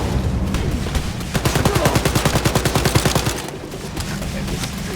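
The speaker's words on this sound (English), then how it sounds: "I'm shooting at the Nazi commander." Rapid automatic gunfire in the shooter Wolfenstein: Youngblood, a loud run of evenly spaced shots lasting a couple of seconds over a busy battle din, then easing off to lower rumbling background noise.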